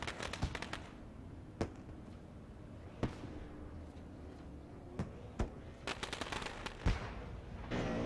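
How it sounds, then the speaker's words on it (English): After a stock car race, fireworks burst in sharp, scattered cracks. They sound distant, with several single bangs and a quick cluster of pops over a faint hum from the crowd. "Fireworks up in the air."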